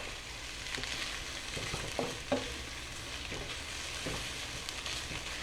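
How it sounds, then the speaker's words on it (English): Onions sauteing slowly in a frying pan, a steady soft sizzle with occasional scraping clicks as they are stirred around, close and continuous with no talking. "these have been slowly sauteing, and you see they're almost there"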